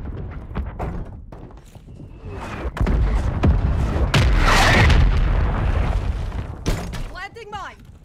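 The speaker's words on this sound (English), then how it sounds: "Friendly mortars." Mortar rounds exploding in a video game match, with deep booming blasts rolling one into another, loud and close, mixed with crashing debris and in-game noise.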